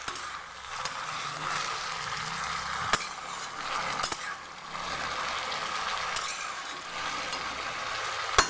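Potatoes fry in a pan while cooking for a Puja, giving off a steady close sizzle broken by a few sharp utensil clicks, with no one talking.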